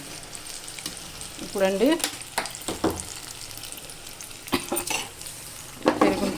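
Brinjals fry on a high flame in a pan, with a steady sizzle, stirring scrapes and brief utensil knocks close by, and a short spoken word partway through.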